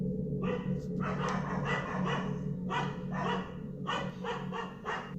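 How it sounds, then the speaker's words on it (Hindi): Dogs barking repeatedly in a steady series of sharp barks, moderately close, over a constant low droning hum. "उसे अपने पीछे भागते हुए कुत्तों की आवाज़ सुनाई दी।"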